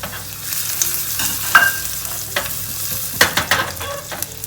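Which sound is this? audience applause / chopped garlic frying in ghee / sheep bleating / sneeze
chopped garlic frying in ghee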